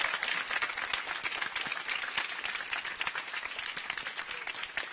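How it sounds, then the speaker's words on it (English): A crowd at a charity music night applauds a choir member, with steady dense clapping from many hands filling the room at an even level throughout the short stretch. "I think that deserves a round of applause for Norbert"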